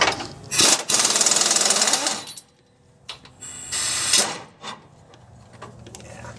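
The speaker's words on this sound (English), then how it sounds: "First thing I like to do is take this track bar bolt out." Loud bursts of an impact wrench or air tool working the track bar bolt on a Jeep JK rear axle, two short rattling runs followed by clanks and metallic handling noises nearby.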